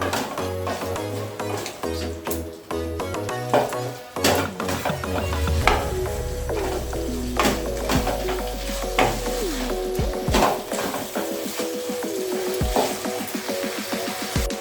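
Chicken fries in a pan with chopped onion and capsicum, sizzling loudly and continuously, broken by stirring scrapes and sharp clinks of a utensil against the pan.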